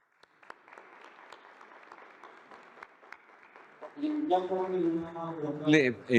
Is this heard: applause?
yes